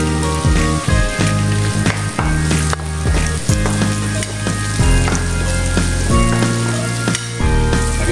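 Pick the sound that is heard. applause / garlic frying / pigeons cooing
garlic frying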